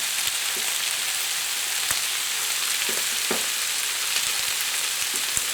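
Garlic fries in oil in a pan for a cottage pie, a steady, close sizzle with faint crackles and occasional soft knocks from stirring, without talk.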